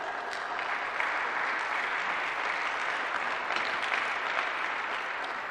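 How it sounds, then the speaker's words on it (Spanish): A church congregation in Quiché claps together for several seconds, a steady, bright roar of many hands in a reverberant hall with no talking over it. "Démosle esa ofrenda de palmas."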